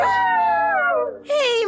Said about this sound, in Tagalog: Bakit tumaalulong ang mga aso ko?